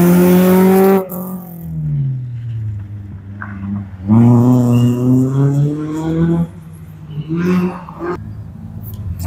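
BMW rally cars at an Estonian amateur rally sprint rev their engines loudly and close by, rising in pitch with each blip, in three separate bursts split by short pauses.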